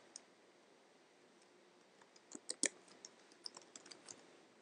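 Several quick keystrokes on a computer keyboard as a name is entered, a sparse run of light clicks clustered in the second half, faint and close against a quiet room hiss.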